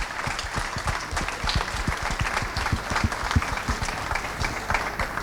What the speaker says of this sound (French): je propose qu'on les applaudisse d'ailleurs, les exposants